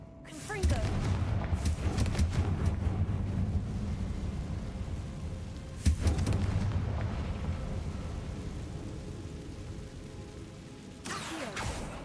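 Fiery spell blasts in a Hogwarts video game: a rumbling, roaring explosion that swells and sustains, with a second sharp hit midway and a voice shouting spell names over the din.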